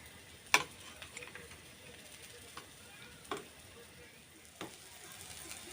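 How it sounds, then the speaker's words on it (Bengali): Onions frying in a pan while a fish curry with drumsticks is being cooked; a faint, steady sizzle runs throughout, broken by a few sharp clinks and stirring knocks, with no talking. "তো দেখো পেঁয়াজটা হালকা ভাজা হয়ে গেছে"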